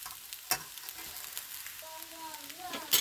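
Warm chicken fried rice folded in a hot pan, a steady soft sizzle with a couple of sharp scraping clinks, while a voice murmurs briefly in the background.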